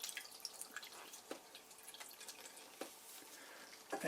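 Pressed plant liquid drips through a strainer into a bowl beneath an old plastic press, giving a few scattered, faint drips and small splashes over a soft, wet background.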